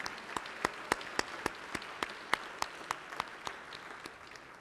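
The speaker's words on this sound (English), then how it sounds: "if you could all join me in a round of applause of thanks and congratulations for Kayla." An audience at the 2014 Prudential Spirit of Community Awards applauds an honoree, with distinct, evenly spaced claps standing out over a softer bed of clapping that gradually fades.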